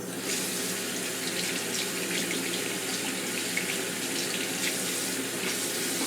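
Warm tap water pours steadily into a sink while a faulty TV remote is rinsed under it, a continuous close splashing hiss with small irregular drips, no speech.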